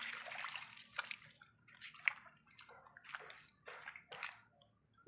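Rainwater rushes into a river during continuous heavy rain, heard as faint, quiet bursts of splashing and gushing water that surge and subside in uneven pulses.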